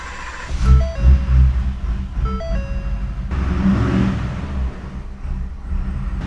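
A 6.7 Powerstroke diesel truck engine with compound turbos runs loudly and roughly up close at first start, with a low rumbling idle and some uneven revving; no one speaks.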